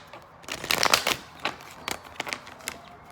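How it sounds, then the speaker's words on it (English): Rider-Waite tarot cards being shuffled close up: a busy burst of riffling followed by scattered taps and flicks as the deck is handled. "I'm going to do 3 shuffles"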